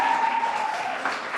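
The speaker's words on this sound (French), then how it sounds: "Applaudissez pour elle." Students in a school reading club applauding, a brief steady burst of many hands clapping together, close and fairly loud, with a faint voice-like tone mixed in at the start.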